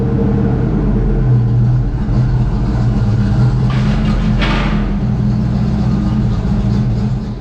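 A Ford Mustang Foxbody engine drones steadily on a test drive, a loud, close rumble that swells briefly midway as the car accelerates.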